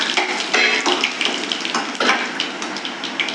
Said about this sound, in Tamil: கடுகு பொரிஞ்சிருச்சு, காஞ்ச மிளகாய் போட்டுக்கலாம்.